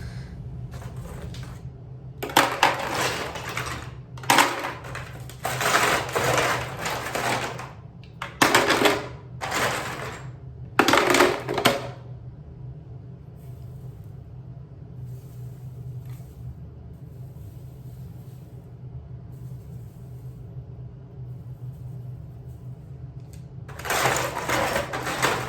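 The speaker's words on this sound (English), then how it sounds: "I'm going to keep on packing in ice and salt until it gets up towards the top of the metal" Ice and salt are packed around the metal canister of an ice cream maker, in a series of loud crunching, rattling bursts up close, then a long quiet stretch and one more burst at the end.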